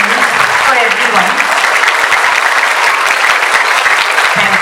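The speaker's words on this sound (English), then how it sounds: "I want you all to just give one round of applause to your school and your teachers and your parents and your friends" An audience at an inter-religious school prayer service claps in a steady, sustained round of applause that fills the whole stretch at an even loudness.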